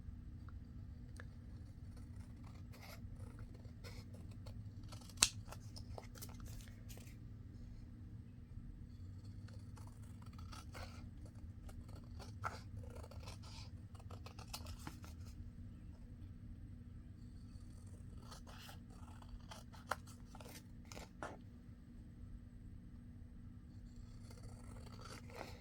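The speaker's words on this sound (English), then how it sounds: "now I'll cut this off. And that's just a piece of scrapbook paper." Scissors snip through a sheet of scrapbook paper in a run of quiet, crisp, irregular cuts over a low steady hum, with no talking.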